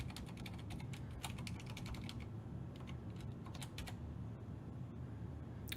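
Keystrokes on a computer keyboard entering a password during a Tru64 UNIX installation, a steady run of light clicks over a constant low background hum.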